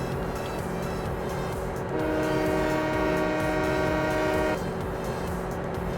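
A train in Farming Simulator 17 rumbles steadily throughout, its horn blaring a sustained tone for a couple of seconds mid-run before the engine noise carries on alone.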